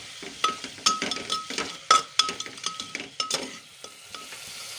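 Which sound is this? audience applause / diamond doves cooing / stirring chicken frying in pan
stirring chicken frying in pan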